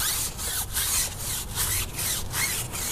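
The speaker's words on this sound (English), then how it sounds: "I'm actually gonna give that a scrub with our tire brush" A stiff tire brush scrubs a tire coated in non-acid wheel cleaner, producing loud, close, rhythmic back-and-forth rasping strokes, about eight in quick succession with no talk.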